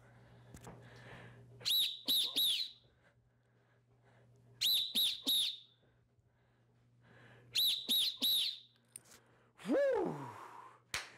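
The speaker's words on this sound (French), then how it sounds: "Bravo à toi si tu as réussi à suivre tous les coups de sifflet." Sharp referee-style whistle blasts during a karate class game, sounded in three quick bursts of three shrill toots with pauses between, followed by a longer sliding whistle near the end; quiet room tone between the blasts.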